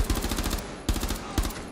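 Rapid automatic gunfire in the video game Rainbow Six Siege comes as loud, close bursts of fast shots, three strings in quick succession with no talk.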